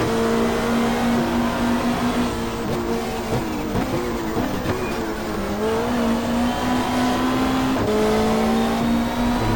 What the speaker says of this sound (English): You can hear the sound of the BMW engine.